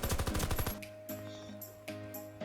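Rapid automatic weapon fire from a Mercury-equipment gun in the video game SED, a fast burst of closely spaced shots for under a second, followed by quieter game sounds.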